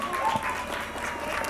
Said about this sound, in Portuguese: Uma salva de palmas, galera!